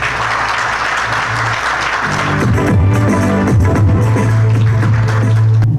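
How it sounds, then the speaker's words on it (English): Community appreciation-night audience applauds steadily for several seconds, a dense, close clatter of clapping hands with a sustained tone or hum running underneath in the second half. "How about a big round of applause for Jamal Khwaja?"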